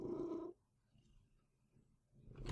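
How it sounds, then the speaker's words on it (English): A house cat purring close by in a quiet room, with a steady low rumble at the start and again at the end and near silence between. "Hello, cat."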